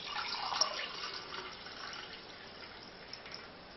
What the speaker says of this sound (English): And then to that I'm going to add 1 1/4 cups of water.